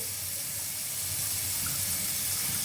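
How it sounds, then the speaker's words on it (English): Tap water runs steadily through a newly fitted under-counter water filter in a kitchen sink, a soft continuous hiss and rush held at an even level for the whole stretch, with no voices. "It is about 3 minutes that is running right now the water."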